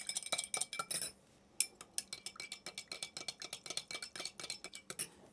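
Spoons stir cheese-making ingredients in two containers, producing quick, bright metallic clinks and scrapes in a fast irregular rhythm. The clinking is close and pauses briefly near the start, then runs continuously with no voices.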